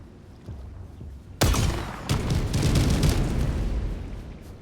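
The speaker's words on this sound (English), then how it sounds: "firing it and then having a whole bunch of explosions going off" A sudden loud blast from the Airburst Rocket Launcher in Helldivers 2, followed by a rolling string of booming explosions and crackling debris, dense and continuous for several seconds.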